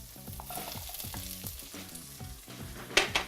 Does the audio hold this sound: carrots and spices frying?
yes